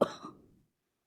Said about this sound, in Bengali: মাঝে মাঝে কাশতে কাশতে অবস্থা খারাপ হয়ে যায়